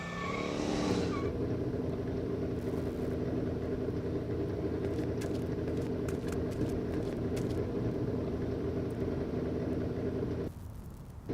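DeLorean car driving in the Back to the Future video game, a sustained loud engine rumble holding steady for about ten seconds, scattered clicks on top, then cutting out abruptly near the end.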